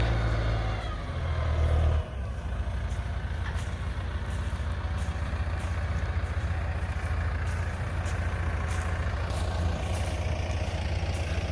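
A truck on a farm drives up to the silage pile to dump tires onto the plastic cover, its engine idling and rumbling steadily with a brief louder surge at the start, fairly close.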